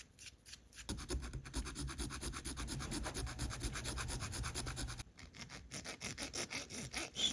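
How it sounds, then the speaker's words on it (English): A metal file rasps steadily back and forth along the edge of a small part for an HO scale model steam engine kit, giving close, continuous scraping strokes with a brief pause midway. "Just gently filing that edge, give it a taper."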